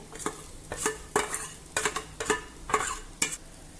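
A spoon stirs roasted coconut, sesame and onion into a simmering curry, giving repeated rhythmic scrapes and clinks against the pot about every half second over a soft sizzle.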